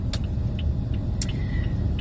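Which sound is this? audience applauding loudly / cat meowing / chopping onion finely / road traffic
road traffic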